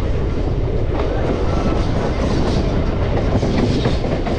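Local commuter train rolling on past Dum Dum station on the line toward Barrackpore, a steady loud rumble of wheels and carriages with faint rhythmic clatter throughout, heard from inside the coach.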